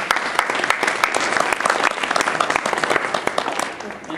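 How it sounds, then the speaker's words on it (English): Audience clapping at a memorial, a dense, steady burst of many hands with sharp individual claps standing out, filling the whole span at a moderately loud level. "Yvonne, that clap is for you"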